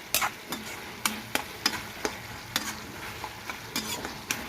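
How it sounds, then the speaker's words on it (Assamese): Banana flower fritters frying in a pan, with a soft sizzle under a series of sharp scraping and tapping stirs at irregular intervals, close and fairly quiet. "কলফুলৰ ভাজিখন এনেকৈ ভাজিলোঁ মই আজি"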